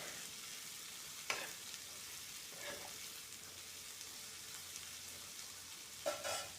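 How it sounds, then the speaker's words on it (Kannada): Vegetables cooking in oil for fried rice, a faint steady sizzle with a few soft stirring clatters, quiet and continuous with no talk. "ಎಣ್ಣೆಯಲ್ಲಿ ಫ್ರೈ ಆಗುತ್ತೆ. ಸೊ ಹಂಗಾಗಿ ಅದನ್ನು ಬೇಯಲಿಕ್ಕೆ ಬಿಡೋಣ"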